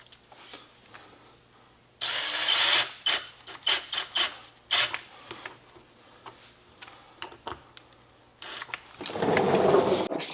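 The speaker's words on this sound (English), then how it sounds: "I will screw this in, and that'll give me a pick point" Screw being driven into a dented plastic Jeep bumper, a quiet series of rasping, ratcheting bursts with short pauses between them, ending in a longer grinding stretch.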